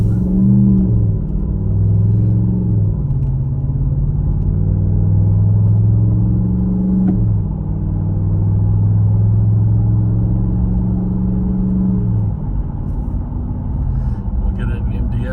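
A deep, rumbling Mopar cat-back exhaust on a 2019 Ram 1500 pickup drones while driving, rising and falling as the engine revs through gears, with someone talking over it.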